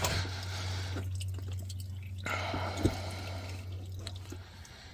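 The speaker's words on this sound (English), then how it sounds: "And there it is, dripping all over my driveway anyway." Used engine oil drips steadily from a Saturn car's subframe onto a driveway during an oil change, faint wet drops under a constant low hum, with one sharper splat near the middle.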